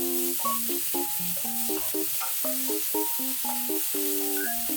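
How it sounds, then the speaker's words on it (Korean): Vegetables stir-fry in a pan, seasoned with a pinch each of salt and pepper, giving a steady, moderately loud sizzle that runs beneath a plucked background melody. "소금, 후추를 한 꼬집씩 넣고 야채 숨이 살짝 죽을 때까지 볶아주세요."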